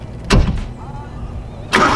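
A 1979 VW Rabbit diesel engine being cranked on a cold start with the choke pulled, two loud close bursts of starter cranking separated by a brief quieter pause.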